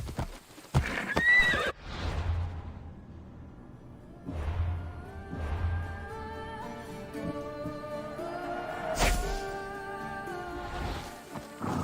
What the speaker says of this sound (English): Looks like a sturdy horse.